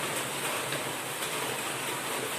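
Steady, dense downpour of heavy monsoon rain in Talawade, a continuous even hiss with no pauses and no voices.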